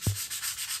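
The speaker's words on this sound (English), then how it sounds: "I'm gonna give this a really light sand and see how much of this lint I can take out." A brief, soft scuff of 1000-grit sandpaper lightly sanding dried latex paint, one quiet hiss-like rub at close range.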